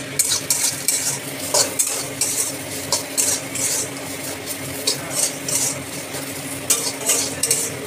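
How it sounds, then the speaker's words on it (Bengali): Bitter gourd frying in a pan, with repeated scraping and clinking of a spatula stirring over a constant, loud oil sizzle. "এটাকে আবার ঢাকা দিয়ে একটু লাল লাল করে ভেজে নেব"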